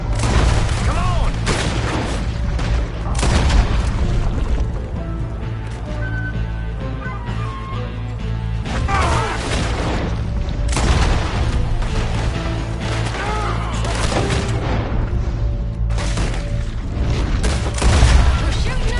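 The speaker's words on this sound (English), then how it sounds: "We're shooting our way out of here, boys!" Gunfire in the video game Red Dead Redemption, loud repeated shots and booms mixed into a busy shootout with music and ambience, with voices shouting.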